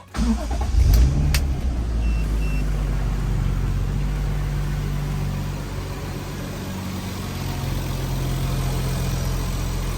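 A Toyota Supra engine turns over and catches, then settles into a steady, smooth idle that runs on without revving.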